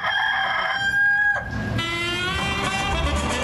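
Bantam silkie chickens at an amusement park give a quick clucking call, then another, against a steady background of park noise and crowd murmur.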